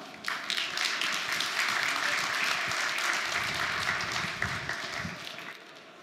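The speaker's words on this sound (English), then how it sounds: "So please give a warm round of applause to the CEO and president of Konica Minolta, Mr. Shoei Yamana." Applause for the keynote speaker, president and CEO of Konica Minolta, at a conference: a full hall clapping steadily and fairly loud, tapering off toward the end.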